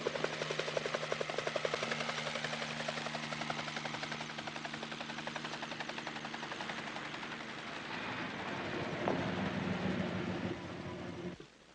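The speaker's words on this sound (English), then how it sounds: "The chopper's on its way in." A helicopter approaching in a 1970 thriller film scene, its steady rotor chop loud and continuous for most of the clip before easing off near the end.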